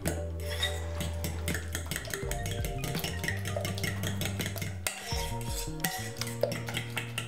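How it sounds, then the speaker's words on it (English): Natural yogurt with 10% fat being whisked into a loaf batter in a bowl, with quick continuous clinks and scrapes of metal against the bowl, close and busy, with background music underneath. "And then we just want to whisk in the yogurt."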